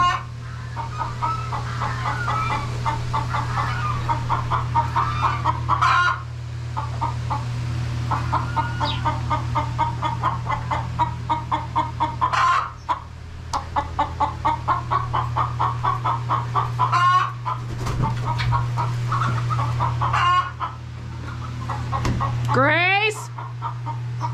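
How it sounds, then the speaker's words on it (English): Farm chickens clucking busily close by, rapid repeated clucks and squawks over a steady low mechanical hum, with brief pauses and a rising squawk near the end. "I need a name for that chicken."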